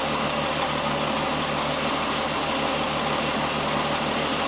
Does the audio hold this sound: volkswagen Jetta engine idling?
yes